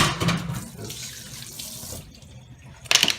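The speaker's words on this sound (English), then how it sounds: "Let me just quickly wash my hands." Hands washed under a running kitchen tap: a close, steady splash of flowing water lasting a few seconds, ending with a brief louder splash, and no talking.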